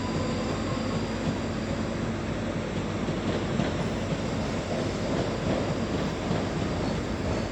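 A train running from Edinburgh Waverley to Helensburgh via Glasgow Queen Street passes close by with a steady, loud rumble of wheels and carriages, continuous throughout with no talking.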